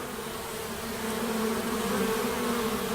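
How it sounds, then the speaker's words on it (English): Honeybees fan their wings inside a hive to cool the colony. A dense, steady buzzing drone stays constant and close throughout. "All the bees of a hive have their jobs to do, like fanning, for example, to keep the colony cool"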